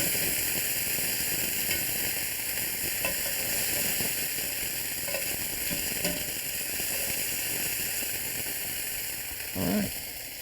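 Beef sears in a hot skillet, giving a steady, dense sizzle and crackle that holds at an even level throughout with no talking.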